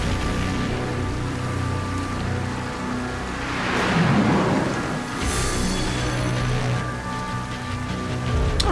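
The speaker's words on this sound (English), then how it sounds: "Of course it's raining." Rain and thunder in the video game Metal Gear Solid: Ground Zeroes, a dense continuous downpour hiss with a deep low rumble swelling midway, loud and steady with no speech.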